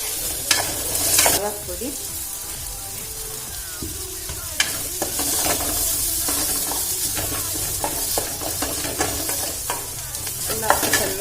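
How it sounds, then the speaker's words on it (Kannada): Goat brain frying in a pan with turmeric, pepper and chili powders, a steady close sizzle broken by repeated scraping stirs, with a brief voice speaking over it. "ಎಲ್ಲ ಹಾಕಿ ಚೆನ್ನಾಗಿ ಸ್ವಲ್ಪ ಫ್ರೈ ಮಾಡಿ."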